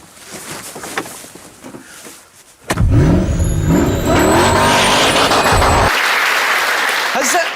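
A 2003 Ford GT starts up and pulls away on a test track, its engine roaring loud and close with rising revs and gear changes, cutting in sharply after a quieter stretch and dropping slightly near the end.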